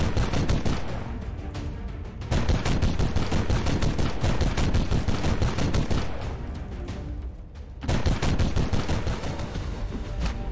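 Rapid bursts of gunfire in the video game XCOM 2, loud and repeated in dense volleys with brief gaps between them, like machine-gun fire during a tactical battle.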